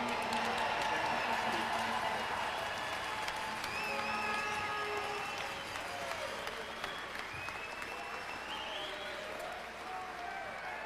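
An arena crowd at an NLL lacrosse game between the Toronto Rock and Rochester Knighthawks applauds and cheers for Pat O'Toole, a steady roar of clapping and scattered whistles that holds throughout and eases slightly near the end.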